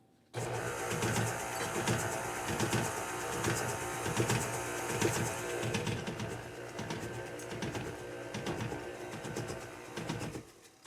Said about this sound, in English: I'm going to turn it back on, and I'm going to add, you can't hear me over the mixer